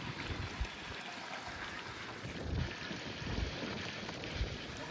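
Irrigation water runs across a farm field in a continuous rushing, trickling flow, broken by occasional soft low thumps, close by and with no one talking.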